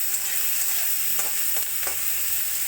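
Onion, ginger, garlic, chili and tomato fry in hot oil with a steady close sizzle, broken by a few short scraping stirs of a spatula.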